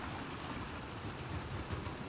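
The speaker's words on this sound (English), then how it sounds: "Let's get out of the rain." Steady rain hisses in The Last of Us Part 2, a dense, even wash of falling water with no voices and no breaks.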